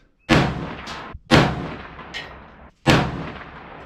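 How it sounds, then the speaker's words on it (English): A 6mm airsoft ARC rifle fires several loud, sharp reports with decaying tails, spaced about a second apart and close by, with no talking. "4 shots. And no jam."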